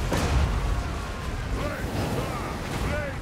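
A continuous heavy rumble of artillery explosions in Total War: Warhammer, a Dwarf Hellstorm battery firing, rolls on, loud and dense, with booms blending into one another.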